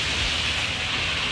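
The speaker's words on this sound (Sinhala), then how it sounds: "මේ වහින හැටි මේ එළියට ගිය ගමන් තෙමෙනවා" Heavy rain pours steadily outside a house, a dense even hiss with a low rumbling undertone, continuous and fairly loud throughout.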